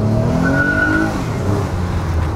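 A Toyota Alphard spinning its wheels in first gear under hard acceleration, with a loud, close engine drone and a rising tonal tire squeal that fades after about a second into steady road roar.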